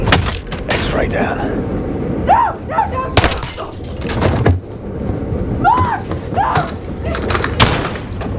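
Gunshots in the shooter game Call of Duty Modern Warfare during an indoor house-clearing raid, several sharp loud cracks and thuds scattered among shouted radio talk and tense ambience.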